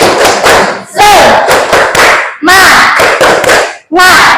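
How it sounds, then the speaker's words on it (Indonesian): Schoolchildren in a grade 8 classroom clap a rhythmic motivational cheer, loud bursts of sharp claps with shouted voices, coming in about four quick patterned groups separated by brief pauses. "Tepuk semangat."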